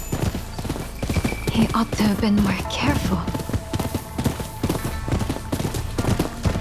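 Horse hooves clip-clopping in a steady riding rhythm during gameplay of Rise of the Ronin, running beneath continuous spoken dialogue and game music.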